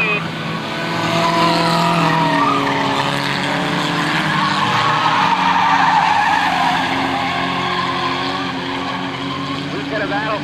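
Race cars battle for the lead at a 1998 race, engines roaring past with squealing, skidding tires, building and fading over several seconds while an announcer talks over them.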